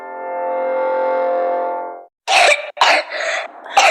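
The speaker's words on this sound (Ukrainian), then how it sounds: "Кашель сьогодні може бути серйозною проблемою." A long sustained tone gives way, after a brief silence, to several harsh, loud coughs in quick succession.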